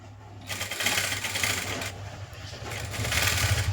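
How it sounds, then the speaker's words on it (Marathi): A sewing machine runs in steady close bursts while stitching the front neckline of a blouse, with a brief pause and a continuous rapid mechanical rattle. "तशी मी इथं शिलाई टाकून घेणार आहे"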